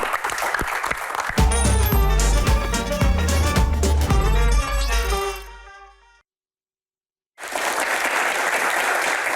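Audience applause for Pak Bolot on a studio quiz show, clapping mixed with loud music and a bright stinger, then a sudden drop to silence before the clapping resumes strongly.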